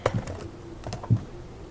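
Typing on a computer keyboard while writing Java code, a short run of soft key clicks with a couple of louder taps, close and alone.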